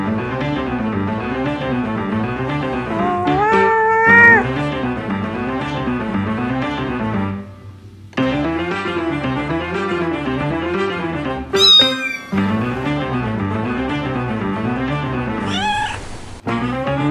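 Cats meowing repeatedly in long, loud, wavering cries close by, with a few short sharp calls breaking through, and no talking.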